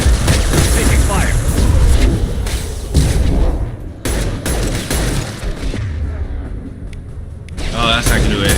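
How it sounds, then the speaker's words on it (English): Heavy gunfire and booming impacts during a firefight in Mass Effect 2, with thudding blasts and crackling shots that rise and fall, and voices heard over the combat. "Taking fire."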